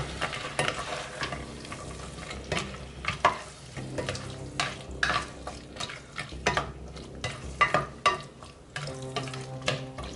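Tofu, green beans and tomato frying in a pan, with a low steady sizzle broken by irregular scraping and clinking stirs of a utensil against the pan, close by with no voice.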